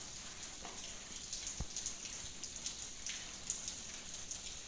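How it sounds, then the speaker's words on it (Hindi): Light rain falls at night outdoors near a parked tractor, a soft steady patter with scattered sharper drops close by, gentle and unbroken, with no one speaking. "लेकिन हल्की हल्की बारिश हो रही है।"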